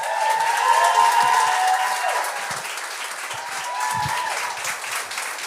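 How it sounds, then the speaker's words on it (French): An audience claps loudly and continuously, with scattered cheers and whistles rising over the ovation before it settles slightly. "un tonnerre d'applaudissements pour Dominique Allard!"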